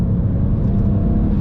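A BMW 335i with the N54 engine on an MHD stage 1 tune, 91 octane, pulls under boost with a loud, steady low drone heard from inside the car.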